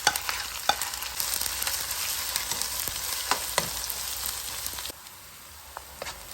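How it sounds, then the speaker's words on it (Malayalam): Ginger, garlic, green chilli, onion and curry leaves sautéing in a pan for eggplant and potato sabji, a close continuous frying hiss with scraping stirs and clicks throughout, quieter near the end. "ഇഞ്ചി, വെളുത്തുള്ളി, പച്ചമുളക്, ഉള്ളി, കറിവേപ്പില ഇതെല്ലാം കൂടി ഇട്ടൊന്ന് നന്നായി വഴറ്റി"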